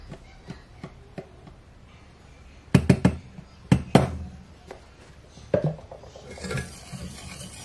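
Sugar, milk and cream being stirred together in a medium saucepan, with close scattered clinks and knocks of a utensil against the pot, a few louder taps, and soft scraping between them.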